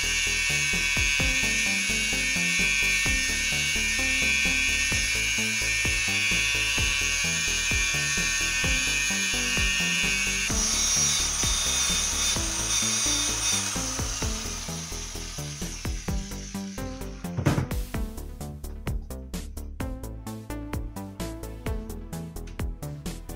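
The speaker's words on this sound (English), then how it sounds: "So let's get to the polishing. Start slow, high pressure." Power polisher working on stainless steel pipe, a high-pitched whining drone that holds steady, shifts tone midway, then winds down into quieter intermittent clicks and rattles near the end.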